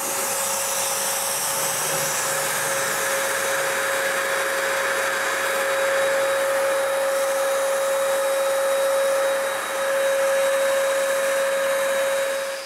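A loud, continuous hiss of a spray gun spraying varnish on a wooden cabinet, with a steady whine throughout, dipping briefly once near the end before resuming, with no voices.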